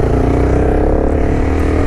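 A Honda CBR 250 R motorcycle fitted with an Akrapovic exhaust holds a loud, steady rev close to the microphone, a dense, even engine drone with no breaks.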